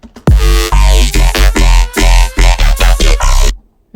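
A dubstep bass mix pushed hard into a clipper plays loud and dense, with heavy wobbling bass and choppy stabs for about three seconds before cutting off.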